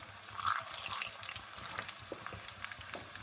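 Homemade Sicilian cannoli shells frying in hot oil, a steady fine bubbling sizzle with crackling pops, fairly quiet and continuous, a brief brighter spatter near the start and no talking over it.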